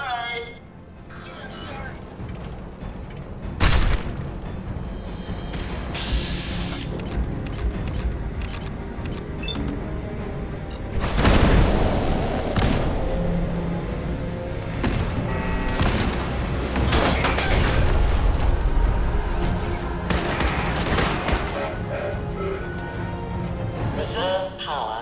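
Bombs explode during Fallout 4 gameplay, several loud booming blasts and crashes rising over a busy mix of game noise and speech, with the heaviest bursts clustered in the second half.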